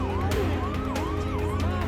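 An ambulance siren wails in rising and falling sweeps, loud and steady over a low traffic rumble, as the vehicle crawls along a blocked road.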